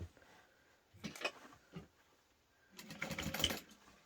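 A home sewing machine stitching down the bottom of a fabric portable game console case, running in two short bursts of rapid whirring stitches separated by a quiet pause, faint and close.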